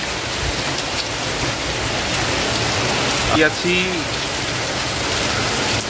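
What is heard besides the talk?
heavy rain falling on the street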